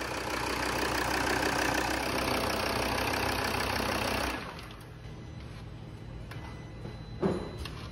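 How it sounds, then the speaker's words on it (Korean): Close by, a Volvo XC70 idles after head gasket repair work, a steady mechanical hum and ticking that drops noticeably quieter partway through, then continues evenly with a brief bump near the end. "엔진 소리는 뭐 별 문제 없어 보인다."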